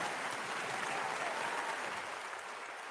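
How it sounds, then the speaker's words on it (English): Steady applause fills the whole stretch, dense and even with no pauses, a continuous round of clapping with no one speaking over it. "But we say round of applause."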